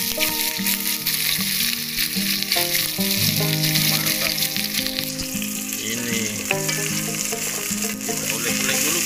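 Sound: fish frying in a pan

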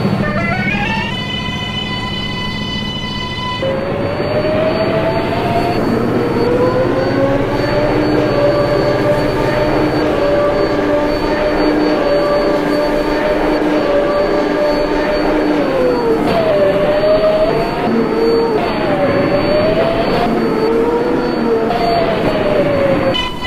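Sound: R188 7 subway train to Queensboro Plaza running

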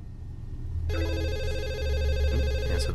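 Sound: phone ringing in the video game The Assembly

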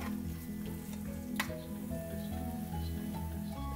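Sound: tomatoes frying and being stirred into a paste

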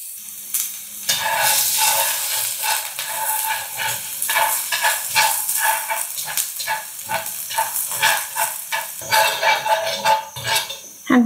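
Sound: onion and garlic frying in oil

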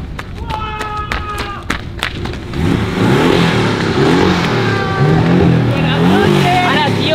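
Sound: car engine revving

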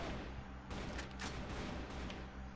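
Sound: gunfire in the video game CrossFire

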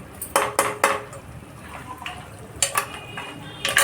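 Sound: stirring mutton bones in a pot

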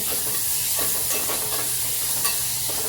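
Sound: chopped tomatoes frying and stirred in a pan

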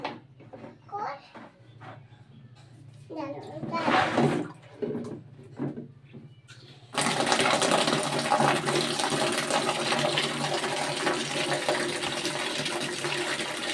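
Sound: water running from a tap

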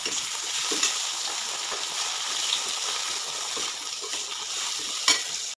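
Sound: potatoes frying in oil with onion, garlic, chili

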